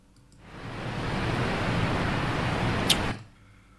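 Rushing water from a big waterfall, a broad hissing roar that swells in over half a second, holds steadily, then cuts off abruptly, with no voices over it.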